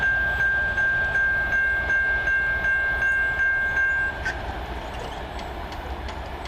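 CN freight train M342, led by rebuilt locomotive CN 3125, rumbles past near Ladysmith, with a steady heavy rolling roar and a sustained high-pitched tone that cuts off partway, leaving wheel and wagon noise.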